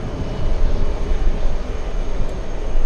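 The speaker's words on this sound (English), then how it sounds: "the American on final approach flying in from Heathrow" An American Airlines airliner arriving from Heathrow on final approach at JFK gives a loud, steady broadband engine roar, close and continuous throughout.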